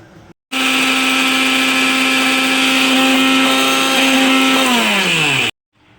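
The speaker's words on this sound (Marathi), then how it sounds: "तर आता आहे ना आपण ते मिक्सरला वाटून घेऊया अशी बारीक पावडर करूया" A mixer grinder whirs loudly and steadily for about five seconds while grinding cooled rice into fine powder, its pitch dropping slightly near the end before it stops abruptly, with no voices.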